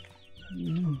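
Young Leghorn chickens, with roosters among them, give a short close cluck that rises into a brief throaty call in a farm pen.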